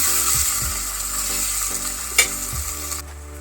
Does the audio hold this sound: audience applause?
no